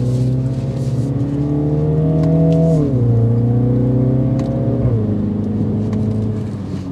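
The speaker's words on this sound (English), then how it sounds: "And the exhaust note that you get, it's just uplifting." Engine of a 2023 Mini JCW Countryman All4 sounds loud and close through its exhaust, holding a steady revving note that drops in pitch twice as it shifts, with no voices over it.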